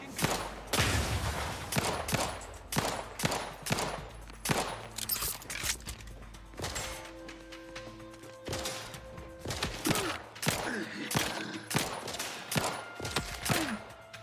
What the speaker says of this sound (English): He's shooting sideways.